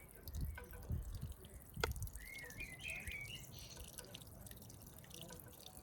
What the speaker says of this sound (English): we would add water to the pothole that we have created.